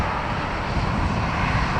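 Loud, close, broadband roar of a Hainan Airlines jet with Rolls-Royce Trent engines at Dublin Airport, a dense, continuous engine rush filling the brief moment with no other sounds.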